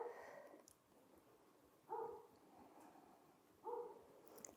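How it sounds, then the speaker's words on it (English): A dog barks outside a door, three muffled, distant barks spaced about two seconds apart over a quiet room. "We got one barking outside my door."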